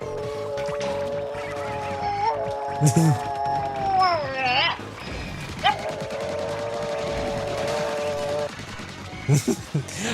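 A dog sound effect plays as a Twitch channel-point redeem during a Splatoon Raiders stream: sustained, wavering howl-like tones rise and slide over about ten seconds, with sharp bursts of game noise breaking in and a voice talking underneath.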